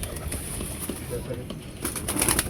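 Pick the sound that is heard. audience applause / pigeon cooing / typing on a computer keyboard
pigeon cooing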